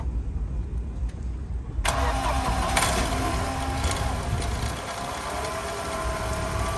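A Mercedes car engine is started, a quiet lead-in giving way to a sudden crank and catch, then the engine settles into a steady mid-pitched idle, close and alone.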